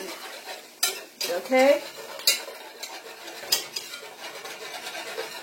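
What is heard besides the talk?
whisk stirring flour into a pan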